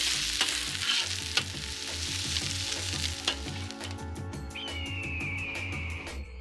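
Onions and peppers sizzle in a pan while being stirred: a steady, close frying hiss with regular scraping stir strokes, and a thin whistling tone rising near the end.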